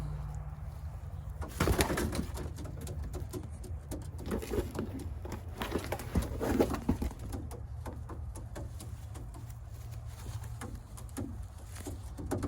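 Newly arrived long-distance racing pigeons in a box or loft, cooing and shuffling with soft wing patter at close range, a steady low murmur of several birds with no talk.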